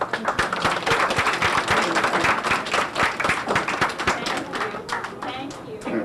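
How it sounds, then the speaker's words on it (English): Audience clapping for helpers at a Little Red Riding Hood children's show, a dense, steady round of applause lasting several seconds, close and loud, with scattered voices in the room. "Would you please clap for my helpers?"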